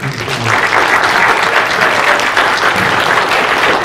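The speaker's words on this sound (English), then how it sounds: "So just give him a round of applause" Crowd applause at a film premiere panel, a loud, continuous burst of clapping from a packed audience filling the room for a few seconds, with a brief voice at the start.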